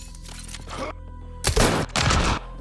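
Remnant defenses opening fire in Mass Effect: Andromeda, two sharp bursts of rapid automatic gunfire after a brief quieter stretch, loud and close with no talking.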